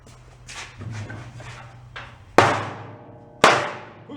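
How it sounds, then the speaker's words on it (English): A hammer strikes parts on the shaft of a salvaged junk-pile snowblower, two sharp metallic whacks ringing out after quieter shuffling and scraping of the workpiece. "we'll give them a little whatnot with the hammer"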